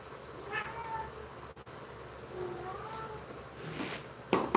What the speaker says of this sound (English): what you over here meowing about?